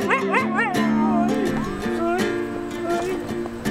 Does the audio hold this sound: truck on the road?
no